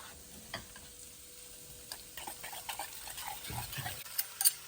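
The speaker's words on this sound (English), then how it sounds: "Then with the same whisk, I'm just going to whisk it." A whisk beating eggs seasoned with black pepper and chopped ginger makes faint, irregular clinks and scrapes against the bowl, quiet and close with no voice.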